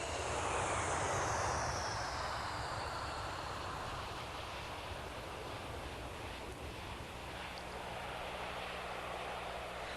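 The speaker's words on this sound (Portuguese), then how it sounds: "Um novo dia, outro avião repleto de passageiros" A passenger airplane flies overhead with a loud, steady broadband roar that peaks early and then holds at a sustained, slightly lower level; no voices are heard.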